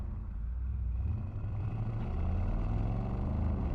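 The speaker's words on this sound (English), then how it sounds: "I just want you to listen to the rumble of the car doing no more than 30" A Mercedes-AMG SL63 or SL55 in comfort mode with the sport exhaust open, cruising under 30 mph, gives a deep steady low rumble that swells slightly partway through, heard alone without talk.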